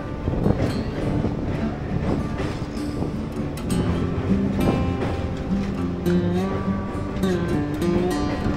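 Local train on the run toward Digha from Howrah, with a steady continuous rumble of wheels and carriage noise, some rhythmic clatter and wind across the microphone throughout.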